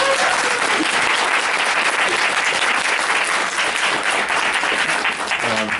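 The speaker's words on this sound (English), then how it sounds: "give yourselves a hand for being here." Dense, loud applause from a convention audience during a Q&A session with Quinton Flynn, sustained steadily throughout with no break and only faint background voices.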